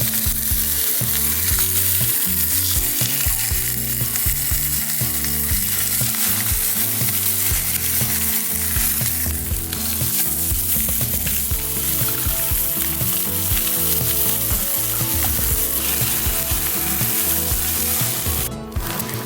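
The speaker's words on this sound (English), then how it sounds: "Put the medium bacon to warm it up." Medium bacon warming in a pan over low heat, giving a loud, steady, close sizzle and crackle that runs unbroken throughout, with no talking.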